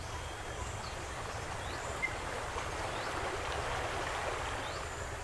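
River water in a Roblox game, a steady broad rushing and babbling flow heard continuously and evenly, moderately loud, with faint bird-like chirps above it.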